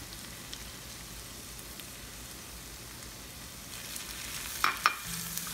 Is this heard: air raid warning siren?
no